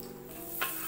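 Butter hitting a hot pan gives a brief, close sizzle with a quick hiss burst near the end, no talking.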